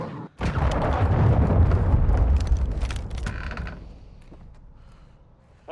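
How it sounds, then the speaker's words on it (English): A cruise missile launching in Modern Warfare 2: a sudden loud, deep rumbling roar bursts in, holds for a few seconds with mechanical creaking and crackle, then fades as it recedes into the distance. "Hostiles launched a cruise missile."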